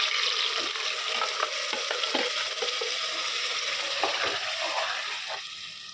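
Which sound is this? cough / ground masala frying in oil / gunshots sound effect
ground masala frying in oil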